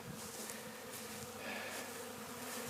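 Honey bees in winter, set on the ground on a tuft of leaves, give a steady low buzzing hum that carries through the whole stretch at a fairly even level, with no talking.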